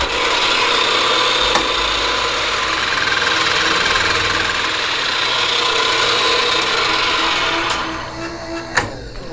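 A machine cutting its final pass across a black anodized aluminum heat sink gives off a loud, continuous grinding whir that holds steady for the whole stretch, with a couple of sharp ticks near the end.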